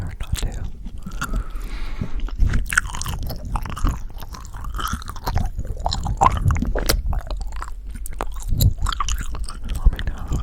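Close-up gum chewing right at the mic during a whispered ASMR reading, wet squishy bites and smacks repeating steadily across the whole stretch, with soft breaths between them and no voice.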